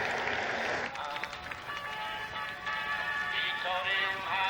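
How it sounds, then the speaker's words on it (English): Applause from a crowd at a western horse event, scattered clapping that rises and falls under tonal background sound and a faint voice. "let's give him a big round of applause"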